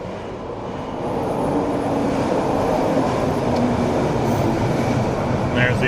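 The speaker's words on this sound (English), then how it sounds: "There's the outbound train leaving." Vancouver SkyTrain metro train pulling out of a station, a loud steady rumbling roar that swells after the first second and holds, heard up close from aboard an older Mark 1 train.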